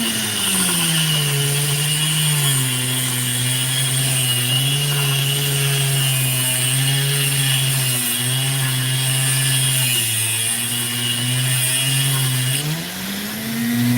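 A power tool carves into rough opal, first through a band of sandstone and then along colourless potch, giving a loud, steady whine with a sustained grinding rasp that dips briefly and shifts in pitch as it cuts.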